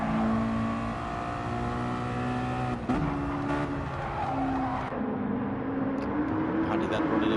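A Mazda touring race car heard onboard through the Laguna Seca corkscrew in a sim race, its engine loud and close as the pitch climbs and drops through the gears, with a commentator talking over it.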